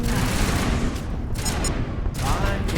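Rapid bursts of gunfire in the video game Mass Effect, a loud, dense fusillade of overlapping shots throughout, close and continuous.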